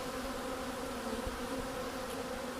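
Honeybees being installed from a package into a new hive, a dense, steady buzz of many bees close by, fairly quiet and without talking.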